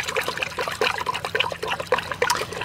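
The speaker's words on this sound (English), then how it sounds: "And we'll give that a good stir." Hydroponic nutrient solution being stirred in water, giving steady close sloshing and trickling with small splashes, no voices.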